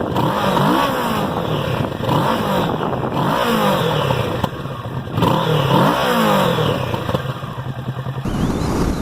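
A 2019 Kawasaki Z650 motorcycle's parallel twin engine revs repeatedly, rising and falling in pitch, loud and close, with a rough mechanical clatter underneath.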